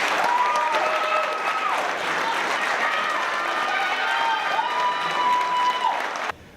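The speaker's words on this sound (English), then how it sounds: "I'd like to give these 9 athletes a big round of applause" A crowd applauds nine athletes at a college sports gameday, sustained clapping and cheering for about six seconds that cuts off abruptly, with a whistling tone sliding over the noise.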